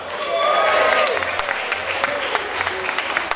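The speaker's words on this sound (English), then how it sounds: "Ladies and gentlemen, can we have an applause for GUSDA," Applause from an audience, steady clapping that fades slightly, with a voice speaking over it and faint tonal sounds in the background.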